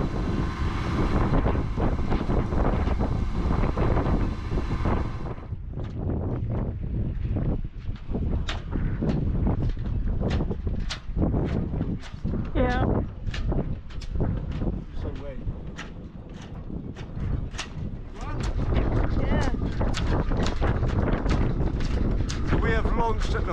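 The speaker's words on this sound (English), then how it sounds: "Windiest time of a windy day." Strong wind aboard a sailboat buffets the microphone in loud, rough gusts, with short knocks and a few bursts of voices mixed in.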